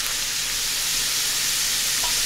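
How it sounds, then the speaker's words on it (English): Ground meat frying in a pan while making cottage pie, giving a steady, dense sizzle that stays close and fairly loud throughout with no voices. "you can hear that the meat is actually frying up now as opposed to liquid burning off"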